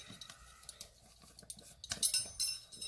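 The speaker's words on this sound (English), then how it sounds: "So, pioneer woman measuring spoons." Metal measuring spoons clink and rattle softly at close range, scattered light taps that build into a brighter jingle toward the end, with no voices.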